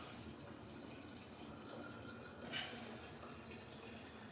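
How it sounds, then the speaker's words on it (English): Steady rushing of water filling a bottle, a continuous low gurgle with a brief brighter splash near the end, fairly quiet and close. "let's fill up this water bottle"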